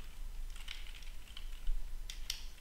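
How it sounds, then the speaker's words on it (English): Keys tapped on a computer keyboard while entering a password, a soft steady patter of clicks with a few sharper strokes, close and fairly quiet, with no talking. "and password I'll type password"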